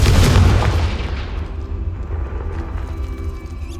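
The Confringo fire spell in the Hogwarts Legacy video game goes off as a loud, deep boom, then rumbles and fades away over a few seconds, with no talk over it.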